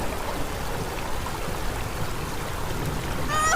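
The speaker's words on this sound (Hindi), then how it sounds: "पानी बहुत तेज है" Fast-flowing water in a story scene, a continuous rushing and trickling wash that stays steady throughout, with a faint high tinkling accent near the end.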